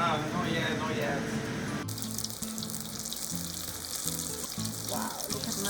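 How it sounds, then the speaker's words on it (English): Tempura batter drops into frying oil heated to 350°F and sets off a steady, hissing sizzle that swells after the first couple of seconds. A voice is heard intermittently under it. "Heat up oil at 350 Fahrenheit or drop the batter if it's bubbling and floating."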